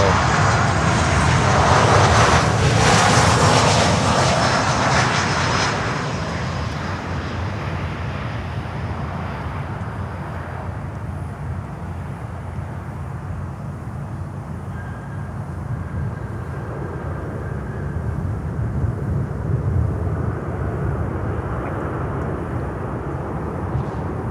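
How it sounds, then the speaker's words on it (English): An American Airlines Boeing 737 at Miami airport produces a loud jet engine roar that peaks early and then settles into a lower, steady rumble; no voices are heard. "let's go into this American Airlines 737."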